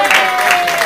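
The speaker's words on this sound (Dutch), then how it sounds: "En we geven ze natuurlijk nog een groot applaus." Crowd applause at a marathon award ceremony in Spijkenisse, a steady patter of clapping from an outdoor audience, moderately loud and continuous through the brief moment.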